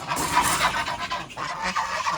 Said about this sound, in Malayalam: ഗൂസ് ടർക്കി ഗിനി അങ്ങനെയുള്ള കുറേ ഐറ്റംസിന് വളർന്ന സ്ഥലം ഇതാണ് ഇവരെയൊക്കെ നമുക്കൊന്ന് തുറന്നുവിടാം